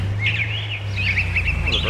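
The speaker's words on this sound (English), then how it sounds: "Oh, the birds are getting loud too, aren't they?" Birds calling in a farming simulator video game: bright, chirpy and quacking calls repeat close by in quick bursts over a low, steady background drone.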